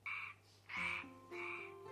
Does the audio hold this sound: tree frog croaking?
yes